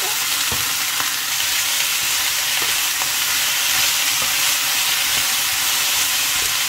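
Courgettes with garlic fry in olive oil in a pan, giving a loud, dense, unbroken sizzle and hiss with occasional soft stirring knocks and no talking.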